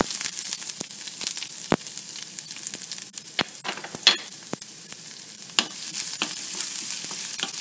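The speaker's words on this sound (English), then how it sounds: "allow the mustard seeds to pop. Now add the ginger." Ginger frying in hot oil with mustard seeds, a bright continuous sizzle dotted with frequent sharp pops and crackles from the seeds, close and fairly loud.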